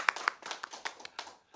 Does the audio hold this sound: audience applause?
yes